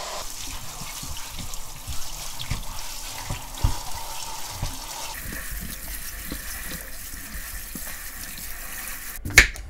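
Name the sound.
washing food under running tap water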